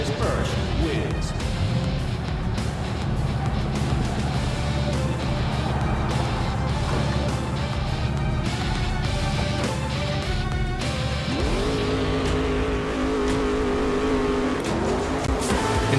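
Race cars roar and collide in the VR autocross game Trail Out, engines snarling continuously with repeated crunching impacts and bangs over steady in-game noise, with a voice talking over parts of the action.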